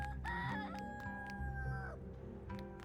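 A wild rooster in the game Dinkum crows with a long, clear cock-a-doodle-doo over a steady low background hum, followed by a shorter call near the end.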